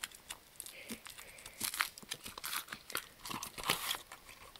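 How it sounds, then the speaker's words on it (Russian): Foil wrapper crinkled and peeled off a Chupa Chups chocolate egg, close and quiet, with repeated crisp crackles and rustles in a steady irregular stream. "Давайте открывать шоколадное яйцо."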